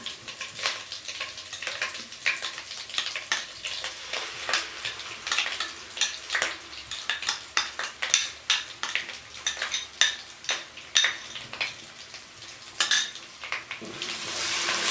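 Onion, green chili and cashew paste being fried in a pan for chicken malai handi, a close sizzle with frequent rhythmic scrapes and clinks of a spoon stirring against the metal, with no talk.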